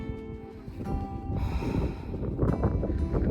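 Gusty wind buffets the microphone on a Welsh clifftop hike, a rough, roaring rush that swells and fades in the foreground while someone breathes heavily close by.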